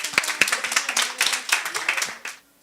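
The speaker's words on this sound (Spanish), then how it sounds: "Un aplauso, por favor." A small audience at a student humanities colloquium gives brief applause, a fairly close patter of separate hand claps that fades out after about two seconds.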